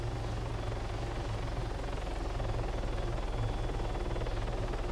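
A Little Bird helicopter in Arma 3 thrums with a steady, loud low rotor chop and engine drone throughout, with no talk over it.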